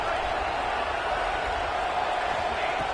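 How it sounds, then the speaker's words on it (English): A stadium crowd roars in a continuous dense wash of noise during a football game, steady and moderately loud throughout, with no clear single voice standing out. "listen to this crowd noise. This stadium is vibrating."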